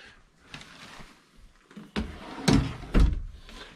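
Ball-bearing full-extension drawer guides in a tiny home nightstand are worked open and shut, giving a few soft slides followed by several sharp knocks and thuds nearby.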